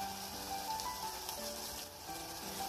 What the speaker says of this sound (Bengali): এখন আমি দিয়ে দিচ্ছি সবগুলো পাউডার মশলা।